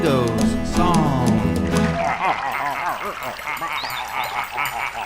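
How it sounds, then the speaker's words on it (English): Flamingos honk and call from a flock on an African pond, a dense overlapping chorus of nasal cries that takes over after a couple of seconds of music and singing, continuing loudly to the end. "A flock of pretty flamingos."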